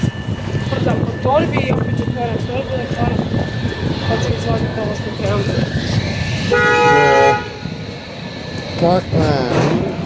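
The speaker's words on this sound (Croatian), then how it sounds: "Drni trubu." A car horn gives a loud sustained honk partway through a street walk on a sunny day, sounding over traffic, passing engines and nearby conversation, with a shorter honk near the end.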